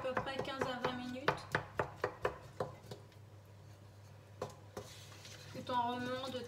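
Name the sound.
stirring pear compote in a pot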